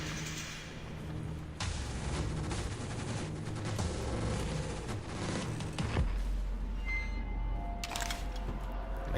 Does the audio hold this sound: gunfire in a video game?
yes